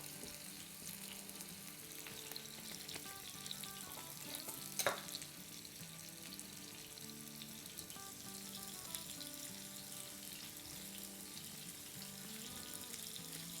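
Seekh kababs fry on a flat tawa griddle with a continuous close sizzle and crackle of oil and meat. A brief sharp clatter sounds partway through, and no one speaks.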